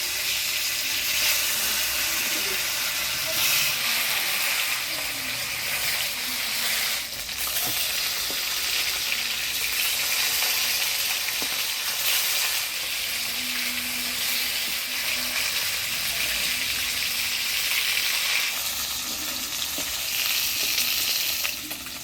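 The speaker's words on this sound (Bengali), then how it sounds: "এবারে মাছগুলা ভেজে নেব" Pieces of shol (snakehead) fish frying in hot oil in a pan, a dense continuous sizzle held steady and fairly close throughout, with faint crackles and no talking.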